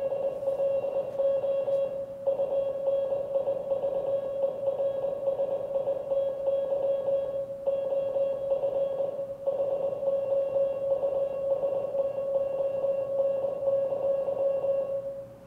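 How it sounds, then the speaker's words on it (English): International Morse Code plays as a steady, clear electronic beep tone. It runs almost continuously at an even level, broken only by a few brief gaps. "So that's the Morse code we're used to seeing and then hearing."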